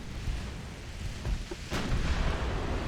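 Naval guns firing in the warship game Ultimate Admiral Dreadnoughts, with low rumbling booms over a continuous noisy battle bed and one sharper blast near the middle.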